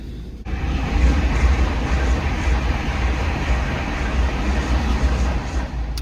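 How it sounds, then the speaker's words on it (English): A heavy, steady rumble with broad roaring noise builds and holds as a train passes close by near the coast, with no talking. "I think there might be a train coming"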